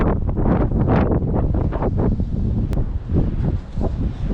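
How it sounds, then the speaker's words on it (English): Strong wind buffeting the microphone in steady gusts outdoors at a paver patio installation, a low rumbling roar that swells and eases throughout, with no voices. "It is still very windy today."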